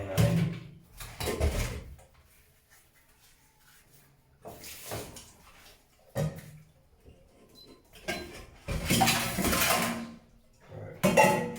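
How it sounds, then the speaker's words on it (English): Saucepans being washed by hand, with clattering bursts of pots and metal utensils knocking against each other in between quieter running-water stretches, close and fairly loud. "Now we're going to wash saucepans finally."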